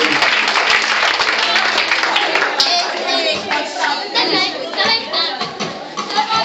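A church congregation claps to acclaim the Lord, loud, dense applause with cheering and overlapping voices of adults and children, filling the room steadily from start to finish.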